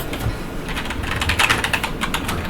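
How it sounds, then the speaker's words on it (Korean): A computer keyboard clatters with quick, continuous typing. The keystrokes are close and moderately loud, sound alone, and fall in an uneven rapid rhythm. "지금 키보드가 뭔가 이상한 거 같죠?"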